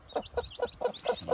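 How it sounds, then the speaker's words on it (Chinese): A brooding hen with four newly hatched chicks clucks in a steady series of about six short, rhythmic clucks, fairly close and moderately loud, with faint higher chick peeps between them. "出了四只小鸡，这只母鸡是抱窝了啊。"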